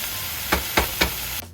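Capsicum, carrot and peas stir-fried in a hot pan: a steady close hiss broken by three quick stirring scrapes in an even rhythm, cutting off abruptly near the end.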